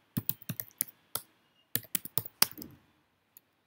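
Quick bursts of computer keyboard keystrokes as code is typed, crisp clicks in short clusters with brief pauses, close and fairly quiet, with no voices.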